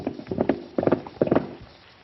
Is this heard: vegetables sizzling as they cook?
no